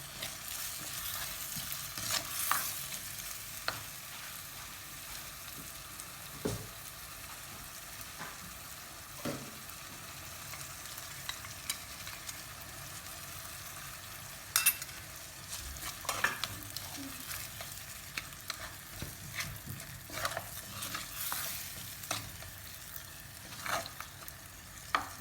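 Fish curry masala with turmeric powder sizzles and fries in a pan while a spoon stirs it, giving a steady hiss broken by frequent scraping stirs throughout, close up with no talking.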